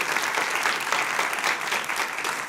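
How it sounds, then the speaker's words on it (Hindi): Studio audience claps throughout a televised Hindi political debate, a dense, steady wash of applause from many hands that holds at an even level for the whole stretch with no voices over it. "थोड़ा तालियां बजा लीजिए।"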